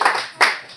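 Brief burst of audience applause after a talk at a medicine, rights and trade-union dialogue event, rising twice in quick swells before thinning out.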